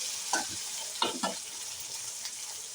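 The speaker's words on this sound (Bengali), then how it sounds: "তারপর পেঁয়াজটা ভাজা হয়ে গেছে" Chopped onions sizzle steadily in hot oil in a pan, with a few sharp scraping stirs of a spatula cutting through the constant frying hiss, close and moderately quiet.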